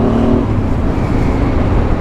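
A car rushes past close by on the road in a loud, broad whoosh of tyre and engine noise that lasts about two seconds, with no voices.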